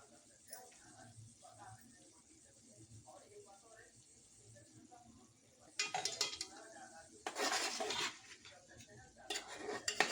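Chicken sukka being mixed with turmeric, red chilli powder and garam masala in a pan, with soft scraping and stirring that turns into louder clattering bursts of spoon against metal in the second half.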